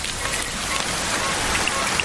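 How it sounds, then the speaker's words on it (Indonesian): Heavy rain pours in a film scene, a thick constant hiss of drops striking surfaces, fairly loud and close with scattered brighter splashes throughout. "Hujan deras sejak semalam."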